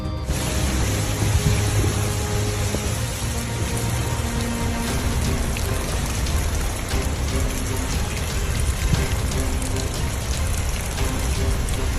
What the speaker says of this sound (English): Torrential rains poured down, releasing as much as 12 inches of water in just hours